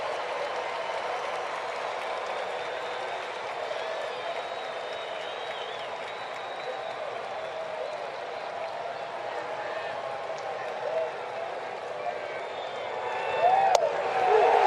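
Sellout stadium crowd at an Atlanta Braves game against the Marlins roars and applauds steadily, swelling louder toward the end, with a commentator talking over it.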